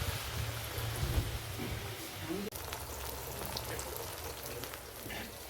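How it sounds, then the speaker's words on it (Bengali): Spiny gourd slices fry in oil with a soft, continuous crackling sizzle, faint and even throughout, with a low rumble underneath. "চলছে কাঁকরোল ভাজা"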